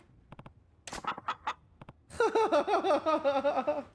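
A chicken clucks in a rapid, rhythmic run of close squawking calls, preceded by a few short, scattered clicks and brief vocal sounds.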